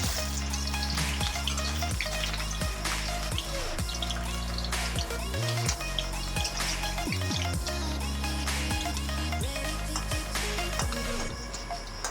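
Small lentil and chopped pumpkin leaf fritters (bora) fry in hot oil in a village-style kitchen, giving a loud, continuous close sizzle with dripping crackles and ticks over a low steady hum.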